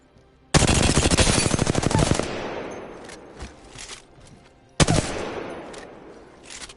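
Automatic weapon fire in Apex Legends, a long rapid burst followed by a few scattered shots and then a second burst, loud and close.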